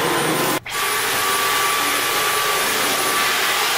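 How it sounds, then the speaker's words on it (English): A vacuum cleaner runs steadily and loudly up close while cleaning a pantry floor and shelves, its constant whooshing drone broken by one brief dropout near the start. No one speaks. "Carlos is vacuuming the pantry right now."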